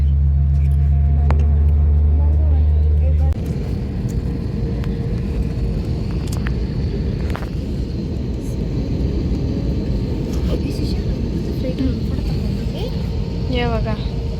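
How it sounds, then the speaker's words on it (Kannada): An airliner on a Delhi to Bangalore flight taxis along the runway, its engines giving a steady loud rumble and whine heard from inside the cabin after a short announcement tone. "ಫ್ಲೈಟ್ ಹೋಗ್ತಾ ಇದೆ, ಮೂವ್ ಆಗ್ತಾ ಇದೆ ಗಾಯ್ಸ್"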